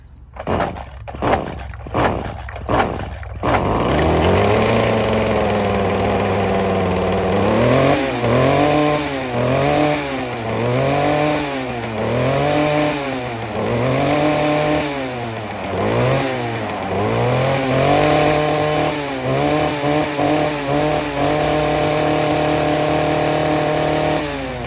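A Kubota lawn tractor engine cranks in several short bursts, then catches and runs loud and close, its pitch rising and falling repeatedly as the throttle is worked, before settling into a steadier run.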